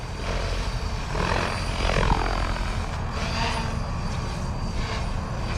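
A Freedom Piuma RC helicopter flying at low head speed outdoors, a steady mid-distance rotor whir and electric motor hum with gentle swells as it maneuvers, no talking.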